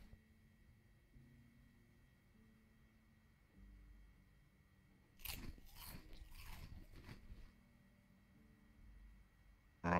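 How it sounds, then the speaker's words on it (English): A candy cane is eaten in the zombie survival game Project Zomboid, heard as a short burst of crunchy bites and chewing a few seconds long against a quiet low game hum, with no talk. "Let's have a candy cane for breakfast."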